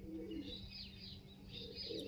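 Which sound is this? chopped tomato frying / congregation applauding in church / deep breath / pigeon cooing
pigeon cooing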